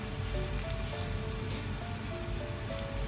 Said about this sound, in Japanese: 椎茸からね、じーって焼いとく